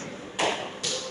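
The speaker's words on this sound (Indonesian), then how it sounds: "tepuk tangan sekali" Two sharp slaps, close and fairly loud, a half second apart over a steady room hum, fitting hand claps in a school classroom ice-breaking game.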